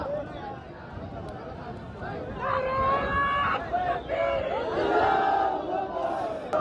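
A protest crowd chants slogans outside the Pune collector office, loud massed voices rising and falling in shouted waves with a steady hubbub underneath, growing louder toward the end.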